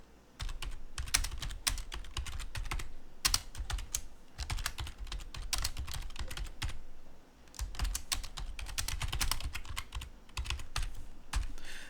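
A computer keyboard clatters as a bash script is typed, quick bursts of close, crisp keystrokes broken by short pauses, steady and fairly quiet with no speech.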